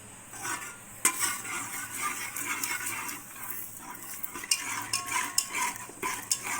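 A ground paste is stirred into pori rice kali in a pot, a close, continuous scraping and sloshing with repeated metallic knocks of the spoon against the vessel and no talking.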